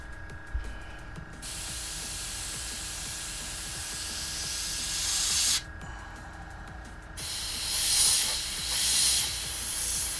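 An airbrush sprays paint onto a 1/35 Fennek scale model: close, steady hissing in long bursts, broken by two short pauses, with no voices.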